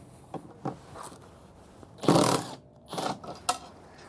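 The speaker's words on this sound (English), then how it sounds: "you can just grab a screwdriver or a bit driver and get those screws removed" Phillips head screws are backed out of an RV step transition plate on a 2022 Forest River Salem FSX with a screwdriver or bit driver, giving close ratcheting clicks and a brief whirring burst amid handling noise.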